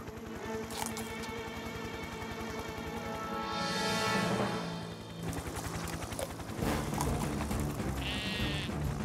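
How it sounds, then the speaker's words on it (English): Sheep bleat a few times in a Fireman Sam cartoon against a steady background of music and mechanical hum, with a soft rushing swell in the middle. "What are you doing, little sheep?"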